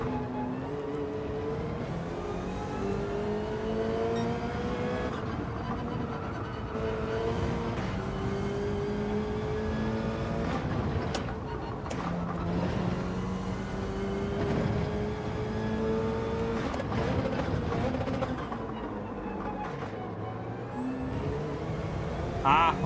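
Engine of a Subaru BRZ race car in Gran Turismo 7, droning continuously as it rises and falls through gear shifts, with further car engines in the mix and occasional voice bits.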